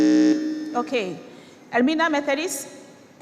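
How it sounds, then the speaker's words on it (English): A quiz-contest buzzer at a junior high school quiz competition gives a short, steady electronic buzz at the very start, then someone speaks over a quiet hall. "Good Shepherd, your buzzer."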